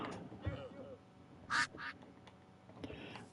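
A duck in the Minecraft video game quacks twice in quick succession, short loud calls standing out over quiet background game sound, with a voice talking around them.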